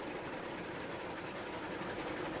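A 26-car lumber freight train rolling along in the Railroads Online video game, a dense continuous rumble and rattle of wheels on track, steady and loud with no talking.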